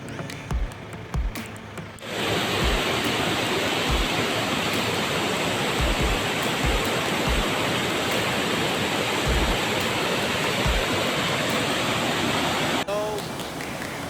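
A river rushes steadily near rice terraces in Ahin, a dense continuous broadband roar that starts abruptly and holds loud and close, with faint low thumps early on.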